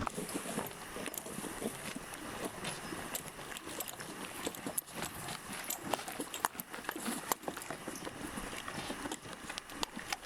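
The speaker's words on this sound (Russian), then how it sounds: "После прогулки угощаем лошадей морковью." Horses' hooves clip-clopping on a hard surface, a steady uneven patter of steps at moderate distance, with faint outdoor background noise and no talking.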